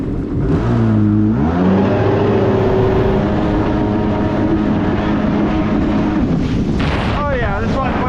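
A jet ski engine, freshly fitted with new spark plugs, runs loud and close with a rough, droning tone that rises and dips in pitch, mixed with wind buffeting on the microphone.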